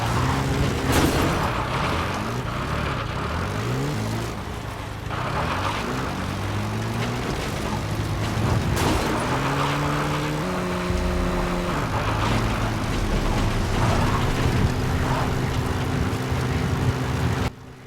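Vehicle engine from a car driven in Metal Gear Solid V: The Phantom Pain, a steady mid-loud hum with shifting pitch as it moves, running continuously alone without talk.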